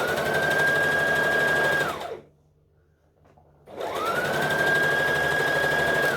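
A sewing machine runs at steady speed stitching a garment top, pausing briefly where it goes over a thick seam and then resuming its loud continuous whirring hum.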